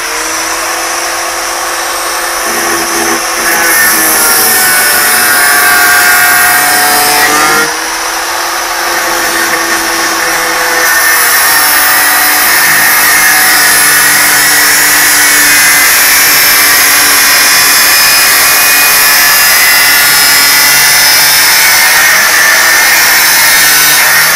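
A power tool grinds loudly through glass on a refrigerator, a continuous high-pitched whine with shifting tones, briefly dipping twice early on before running steadily to the end.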